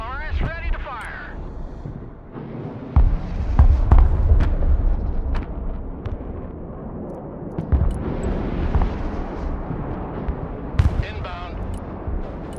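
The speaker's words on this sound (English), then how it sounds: "MLRS ready to fire." MLRS rocket artillery in the Broken Arrow video game fires in a loud rumbling salvo of whooshing launches and deep booms, with radio-style voices and someone talking over it.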